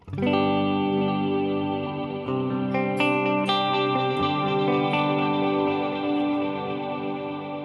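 Electric guitar played through a Fractal AX8 effects unit with reverb on, sustained chords and picked notes ringing out and blooming into a wash of echo, loud and close with no talking.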